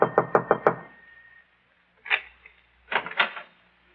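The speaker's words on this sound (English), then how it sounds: "and knocks on the door." Knuckles rap on an apartment door in a radio drama: a quick close run of four or five sharp knocks, a pause, then a single knock and another short cluster.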